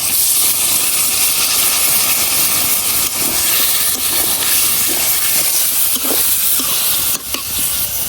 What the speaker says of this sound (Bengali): এখন দিয়ে দিতেছি অল্প একটু পানি।